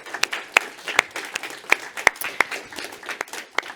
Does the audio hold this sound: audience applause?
yes